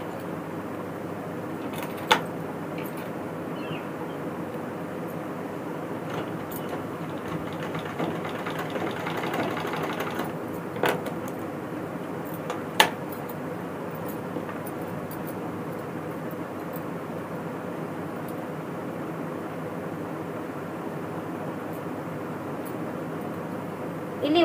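A sewing machine stitches piping onto a square neckline, its motor running as a steady, low, continuous whir with a few faint clicks.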